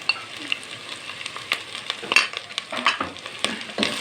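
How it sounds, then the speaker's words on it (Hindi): Ginger garlic paste frying with browned onions in a pot for aloo biryani, giving a steady crackling sizzle broken by scraping stirs, close up and fairly quiet, with no voices. "अब हम इसमें डालेंगे 1 टेबल स्पून अदरक लहसुन का पेस्ट।"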